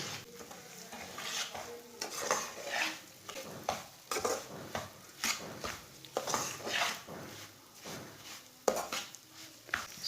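Semolina is stirred with a spoon in hot ghee over medium heat, each scrape of the spoon coming as a short burst over a soft, quiet sizzle, all without talking.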